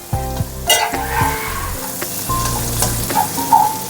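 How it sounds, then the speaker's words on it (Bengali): Ginger sizzles and crackles in hot oil over a very low gas flame, a steady frying hiss with occasional stirring clinks, fairly close, while cooking one-pot egg pulao. "এবার গ্যাসের ফ্লেম একদমই লোয়েতে করে আমি আদাটা একটু ভেজে নেব"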